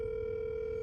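A telephone dial tone plays as a service call is placed, a steady, unbroken tone held at even loudness for about a second with no talk.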